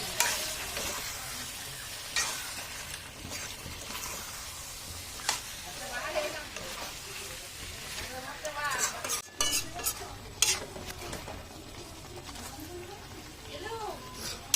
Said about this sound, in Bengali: কিছুটা টক দই মিক্সি বাটিতে করে ফেটিয়ে নিয়েছে, এবার সেটা দিয়ে দিল। আবারও ভালো করে কষিয়ে নেবে।